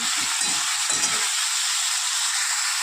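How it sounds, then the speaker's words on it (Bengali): A loud, steady sizzle of potato and eggplant frying in oil for a Bengali hilsa fish curry, with a few low clatters of stirring in the first second. "একটুখানি আলু বেগুনটা লাল করে ভেজে নিয়ে আর আসছি"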